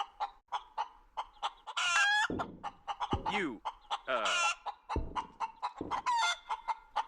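Chickens cluck and squawk in a video game, with quick repeated clucks and loud drawn-out crowing calls standing out close and clear.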